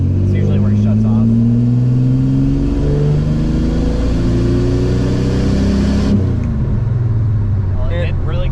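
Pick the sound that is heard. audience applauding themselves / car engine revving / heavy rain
car engine revving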